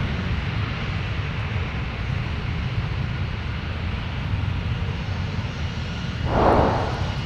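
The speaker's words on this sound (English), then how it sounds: "United coming in with the A320" A United Airbus A320 airliner comes in to land at Minneapolis–Saint Paul airport. Its broad, steady engine roar runs throughout at a moderate distance and swells briefly near the end.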